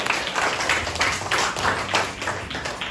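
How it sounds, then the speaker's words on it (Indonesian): A crowd of people clapping steadily, a dense patter of hand claps at moderate loudness that carries on throughout. "Mari kita beri tepuk tangan untuk kelompok masing-masing."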